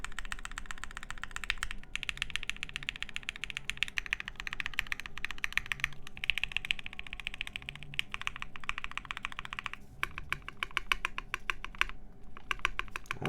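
Rapid clattering keystrokes on a modded mechanical keyboard fitted with NK Silk and Dry switches, close and continuous with brief pauses and a burst of sharp separate clicks near the end.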